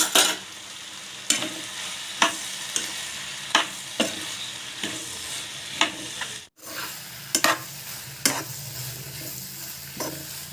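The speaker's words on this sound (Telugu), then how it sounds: "కొంచెం పెప్పర్ పొడి కొంచెం గరం మసాలా వేసి బాగా కలుపుకోవాలి" Cooked pasta is tossed in a pan with pepper powder and garam masala. A spoon scrapes and clinks about a dozen times at an uneven pace over a soft, continuous sizzle, with no voices.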